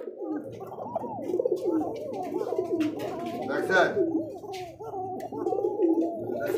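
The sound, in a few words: pigeons cooing, pair with chicks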